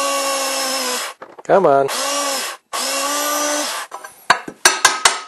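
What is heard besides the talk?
drill with new drill bit drilling metal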